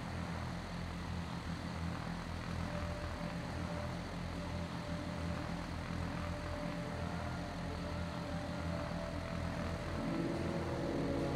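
Propeller warplane engine droning steadily and loud throughout, a dense continuous roar with no voices, from the WWII combat flight game Secret Weapons Over Normandy during a Denmark mission.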